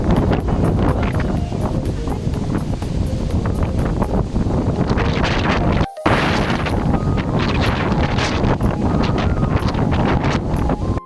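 Strong wind roars steadily into the microphone, a loud, constant rushing buffet that drops out only for a split second midway.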